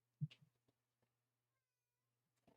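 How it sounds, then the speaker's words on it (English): A pet cat lets out a loud, close meow at the start, followed by a few softer chirps and faint rustles, then another short vocal burst near the end in an otherwise quiet room. "That is the most vocal I've ever heard you, cat."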